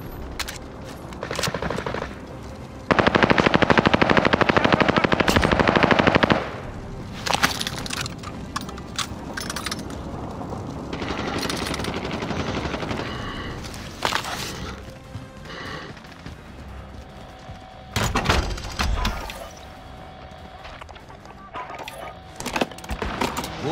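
Bursts of rapid gunfire and explosive blasts, some long continuous volleys, amid loud chaotic battle noise with irregular pauses.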